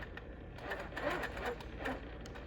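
A sewing machine stitches a quilt design along a ruler, giving a soft, steady mechanical whir with light rapid needle ticking at moderate distance.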